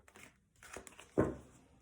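Tarot energy cards being shuffled by hand, giving soft papery riffles and rustles with a louder crisp burst near the end, close and quiet with no voice.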